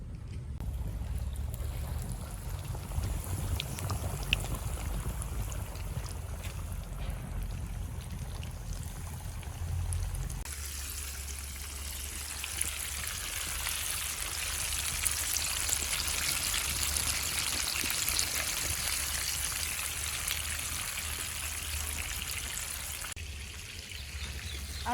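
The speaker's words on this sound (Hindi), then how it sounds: "तेल तो अच्छे से गर्म हो गया है, अभी चिकन को हम इसमें डालेंगे।" Chicken pieces frying in hot oil for a crispy KFC-style recipe, a steady broad sizzle and bubbling that runs unbroken, growing brighter and denser partway through, with no voices.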